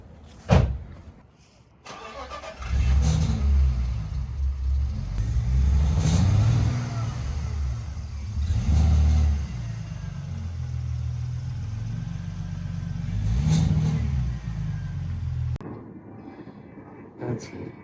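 A BMW E46 engine cranks and starts, then idles and revs in several rising surges as the car drives off, fairly close and loud, before cutting out near the end.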